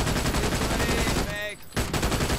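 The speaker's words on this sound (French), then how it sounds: "Enfin, elle fait beaucoup de bruit cette arme." Heavy automatic weapon fire in the Brink video game, a loud, continuous burst of rapid shots that drops out briefly near the middle before resuming at full intensity.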